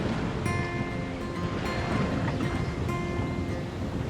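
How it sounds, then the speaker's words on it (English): Sea waves wash around a sailboat on calm water in the Exumas, Bahamas. A steady broadband rush of water and wind holds at a constant level throughout, with no voices. "The seas are calm, and the miles slip away as we sail through the vibrant blues and greens of the"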